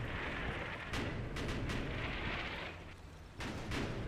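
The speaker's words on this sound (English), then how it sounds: "our barrage of mortars, landing really good hits. While our machine gun's still shooting in the background." A mortar barrage in the Combat Mission World War II Normandy game, with dense continuous rumbling explosions and crackling bursts of machine gun fire, loud and unbroken throughout with a few sharper blasts.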